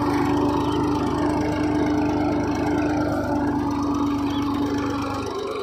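A tractor engine runs steadily in high gear while pulling a cultivator through a field, a continuous droning hum with no pauses or talk.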